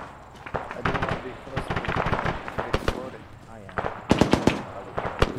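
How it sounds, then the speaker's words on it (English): Rapid bursts of automatic gunfire from soldiers in the military shooter Arma 3 during a desert operation, dense volleys and single sharp shots crackling throughout, loudest near the end, with voices speaking under the firing. "Why are they shooting at me?"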